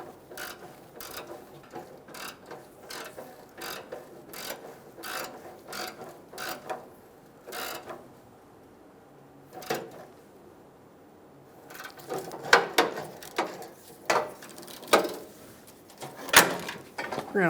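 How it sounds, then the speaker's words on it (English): A hand ratchet with a socket and extension clicks in repeated quick bursts while tightening an exhaust manifold stud on a 2007-2017 Ford Expedition 5.4L V8, close and sharp, with metallic clanks and a brief pause midway. "Now we'll go down below with a socket and extension and tighten that stud up."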